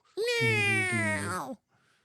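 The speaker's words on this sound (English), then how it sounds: "that sounded more like a cat crying than anything" A single drawn-out cat cry or meow, close and loud, rising then sliding down in pitch over about a second and a half before stopping abruptly.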